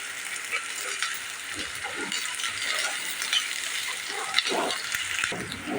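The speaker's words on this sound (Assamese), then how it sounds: "পিঁয়াজখিনি মই 1 মিনিট সময় ভাজি লৈছোঁ" Chopped onions sizzle and fry steadily in hot oil in a pan for a snack made with atta, a continuous close hiss with faint stirring scrapes and no talk.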